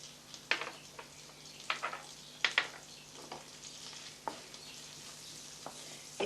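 Onion added to a pan of hot olive oil and butter sizzles quietly, with soft irregular crackles and pops over a low steady frying hiss, heard close up with no talk.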